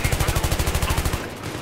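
Rapid automatic gunfire in Battlefield 3 close-quarters combat, a steady burst of loud, evenly spaced shots lasting over a second before cutting off into quieter game ambience.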